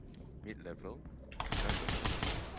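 Gunfire in the tactical shooter Ready or Not during a raid on a park home, a loud rapid burst of shots that breaks in after a man's brief muffled words and keeps rattling to the end.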